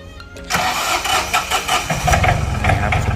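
A 39-horsepower Yanmar tractor engine cranks and catches after a brief pause, then settles into a loud, close, throbbing diesel idle.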